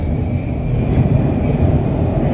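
A Shenzhen Metro Line 8 train runs with a loud, steady rumble heard from inside the car, with a faint high whine above the low wheel and track noise.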